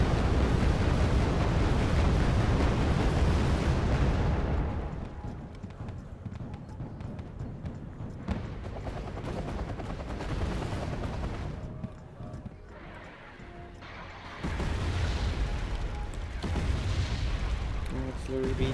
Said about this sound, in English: Artillery being fired.